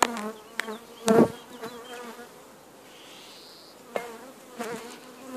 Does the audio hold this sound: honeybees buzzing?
yes